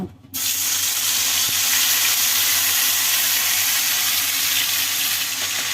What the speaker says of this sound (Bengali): এটাকে আমি ভেজে দেব